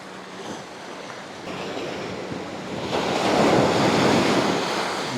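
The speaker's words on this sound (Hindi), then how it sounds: "पानी अंदर तक दाखिल हो रहा है।" Ocean surf rolls in and washes up the shore of a Balochistan beach, a broad rushing roar that swells louder toward the end, with wind buffeting the microphone.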